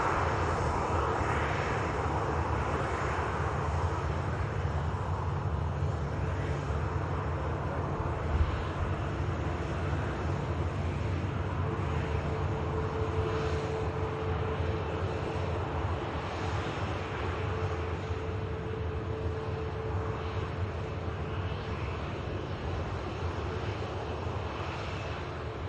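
A Cathay Pacific airliner taxiing out at Manchester Airport gives a steady, moderately distant jet engine whine and rumble that holds evenly throughout, with a faint tonal hum rising midway and no talk.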